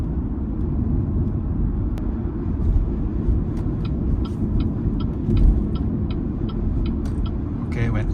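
A BYD car speeding up on intelligent cruise control, with a steady low road and engine rumble filling the cabin and a series of faint, regular electronic chimes over it, without talk.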